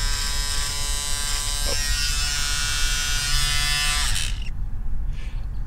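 Electric shaver buzzing steadily across a face at close range, a dense constant drone that cuts out near the end, leaving a quieter hiss.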